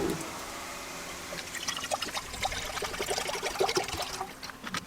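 Water pouring and trickling into a saucepan inside a camper van, a soft steady splashing that starts after a brief quiet moment and continues.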